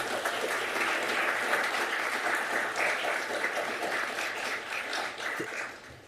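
Audience at a city council meeting applauding, a broad sustained wash of clapping from many people that holds steady, then slowly fades near the end.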